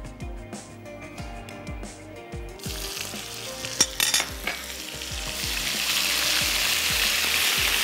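Garlic and ginger paste sizzles in a hot pan for Kashmiri pulao, a steady frying hiss that grows louder partway through, with scraping stirs and soft utensil knocks close by.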